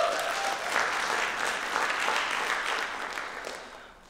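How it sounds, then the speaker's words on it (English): Audience members at a spoken-word and arts event on being Black in America give themselves a round of applause. Steady, moderately close clapping holds for several seconds and then fades toward the end. "So please give yourselves a round of applause."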